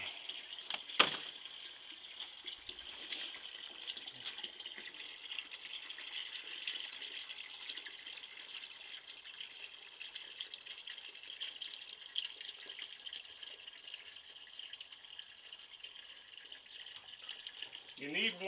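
Warm tap water runs steadily into a container for a moonshine corn mash, a continuous hissing gush with a brief knock early on, sounding close and fairly quiet throughout.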